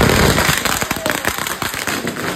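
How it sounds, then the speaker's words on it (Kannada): A string of firecrackers bursting during Deepavali, a loud close rapid crackle of overlapping pops that fires continuously without a pause. "ಸರ ಪಟಾಕಿ ಸರ್"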